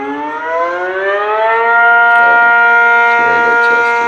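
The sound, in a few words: tornado siren wailing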